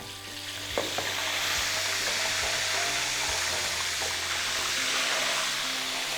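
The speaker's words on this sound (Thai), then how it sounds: "ตัวนี้ก็เป็นพริกนะครับก็ทอดลงไป" Chili peppers fry in hot oil for a Thai stir-fried chicken with roasted chili dish, a steady, loud, close sizzle that holds throughout with faint clinks underneath.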